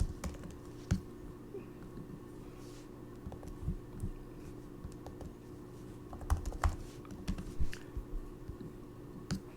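Keys clatter on a computer keyboard in quiet, irregular bursts of shortcut presses, with scattered sharp clicks and brief pauses in a calm room and no talk.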